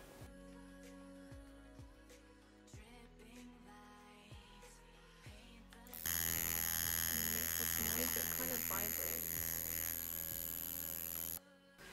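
Electric skin spatula for deep-cleaning pores, first a low hum with faint clicks, then switching to a louder, buzzy high-pitched vibration mode for several seconds before cutting off.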